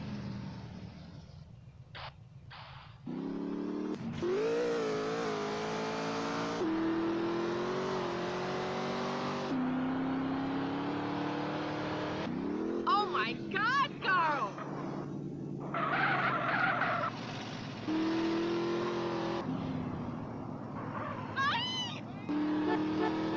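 A car in the video game GTA San Andreas drives fast, its engine revving up and down through repeated gear changes at a steady, loud level, with brief voices heard at times over the engine.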